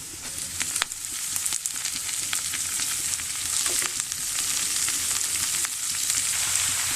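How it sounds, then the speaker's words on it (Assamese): Chopped greens fry with garlic in a pan over high heat, giving a steady, bright sizzle with small crackles and stirring scrapes throughout, close and uninterrupted. "এতিয়া কুটি ৰখা শাকবিলাক এটা এড কৰি দিম"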